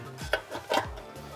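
A hand file rasps across metal on a custom griddle jet burner build in a few short, uneven strokes, close and fairly quiet.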